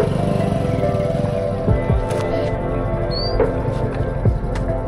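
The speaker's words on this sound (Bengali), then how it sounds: "ওই যে একটা যাচ্ছে, বটবটি। হ্যাঁ, ট্রলার যাচ্ছে।" A motorized trawler boat chugs along a river, a steady low engine throb with a rhythmic pulse running throughout, fairly close and loud, with a few light knocks on top.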